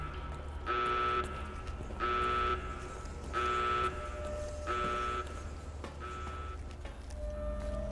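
An alarm buzzer in the Fallout New Vegas video game sounds five evenly spaced, loud tonal blasts over a steady low hum, with no talk.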